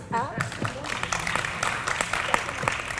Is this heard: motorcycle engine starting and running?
no